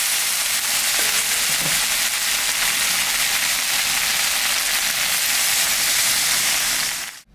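Water hitting hot sautéed spices in a cooking pot sets off a loud, steady sizzle and hiss that fills the whole stretch before cutting off abruptly at the end, with no talk.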